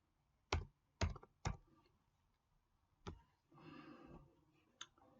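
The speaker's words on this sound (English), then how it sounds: "Let me type that in." Several sharp clicks from a computer keyboard as a zip code is typed in, spaced irregularly and close, with a short stretch of faint rustling between them.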